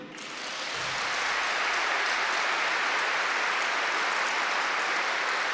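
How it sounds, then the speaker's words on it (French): A hall audience at a talk in Montreal breaks into applause, swelling within the first second into loud, dense, sustained clapping that holds steady to the end. "j'aimerais bien que vous applaudissiez Jésus"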